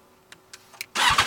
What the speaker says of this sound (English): This exhaust sounds cool. You guys want to hear it?